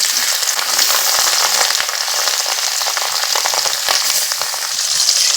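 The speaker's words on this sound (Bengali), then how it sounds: "তেল গরম হয়ে গেছে, মাছগুলো কড়াতে দিয়ে দিব।" Rohu fish pieces, rubbed with salt and turmeric, frying in hot oil in a kadai, giving a steady dense sizzle with crackling pops throughout, close and loud with no talk.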